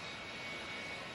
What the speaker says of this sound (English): I think I hear the engines cranking